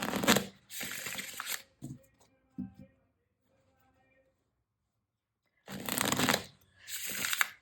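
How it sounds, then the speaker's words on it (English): Prism Oracle cards being shuffled close up in two bursts of crisp riffling and flapping, separated by a quiet stretch with faint handling clicks. "So I'm going to pull some cards from the Prism Oracle for you."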